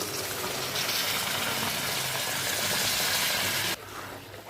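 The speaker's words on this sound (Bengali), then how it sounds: "মশলা থেকে তেল ছেড়ে এসছে, দিয়ে দিচ্ছি গরম জল" Hot water poured onto spice masala frying in oil for a prawn, potato and taro dish makes a loud, close, hissing sizzle that holds steady, then drops sharply to a softer bubbling near the end.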